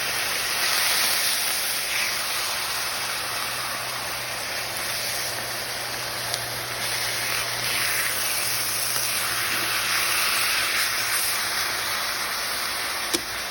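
Beef tri-tip sirloin steaks sizzle on a stovetop, a steady close hiss of frying with a low hum beneath and a couple of faint pops, no talk.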